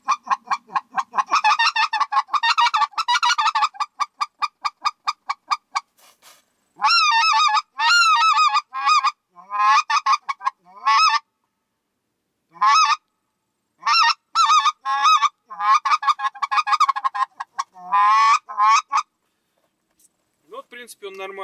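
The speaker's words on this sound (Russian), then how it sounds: "так вот он и звучит" Goose decoy call blown by hand, giving loud, close honks in rapid repeated bursts and clucking runs separated by short pauses, with no voices over it.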